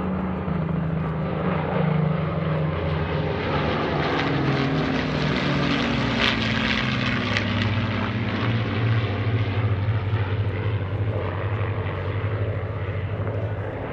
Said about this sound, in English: Here comes the fighter flight once again from the left.